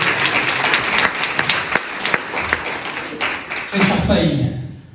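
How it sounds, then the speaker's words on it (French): Audience clapping for guests at a 2020 general assembly on forest issues and the Luberon park, a short burst of applause with a voice over it, thinning out and fading near the end. "Oui, applaudissez"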